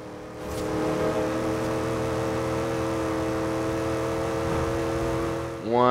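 1970 AMC Rebel engine at top speed in the racing game Forza Horizon 2, a sustained loud droning whine holding steady pitch, rising in pitch at the very end.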